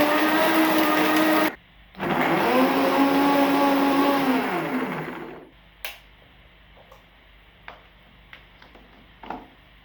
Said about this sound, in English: So I went ahead to blend this.